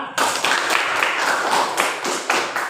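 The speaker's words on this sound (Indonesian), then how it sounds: "Tepuk tangan anak-anak" A group of children claps hands in a classroom lesson, a burst of quick, uneven, fairly close claps that starts abruptly and keeps going steadily for a couple of seconds.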